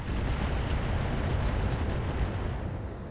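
A mech weapon fires in the RogueTech game, a dense roaring blast of explosive noise that fills the whole stretch at steady loudness and fades slightly at the end, with faint tonal beeps late on.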